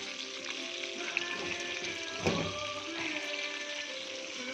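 Fish crackling and sizzling steadily as it fries in a pan over fairly high heat, with one brief knock partway through.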